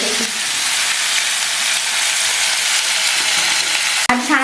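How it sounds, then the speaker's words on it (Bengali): Potatoes fry in a pan at home with a loud, steady sizzle and hiss running throughout, close to the pan, and a brief clatter of a utensil near the end. "আর এদিকে হচ্ছে আলু ভাজা"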